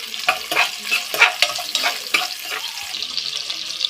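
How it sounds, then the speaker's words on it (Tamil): Sliced big onions sauté in a pan for meal maker biryani, with an irregular sizzle and repeated scraping bursts as they are stirred, close and fairly loud. "வெங்காயம் கொஞ்சம் வதக்கி விட்டுக்கலாம்."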